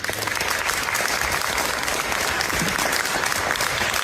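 Supporters applauding inside a courtroom, a steady, dense burst of clapping from a crowd that holds evenly throughout before cutting off abruptly.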